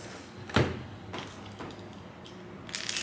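A small hinged door on a podcast recorder flips open in a studio, a sharp plastic click followed by a few faint soft clicks and taps, close and quiet.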